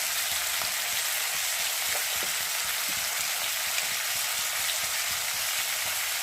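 Prawns frying in oil in a pan, a steady close sizzle with soft crackles and light pops throughout, no voices.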